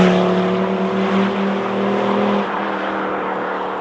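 Drive-by of a car powered by an OM605 diesel engine with an HX32 turbo, a loud, steady engine roar with a strong low drone that eases slightly as it passes, no talking.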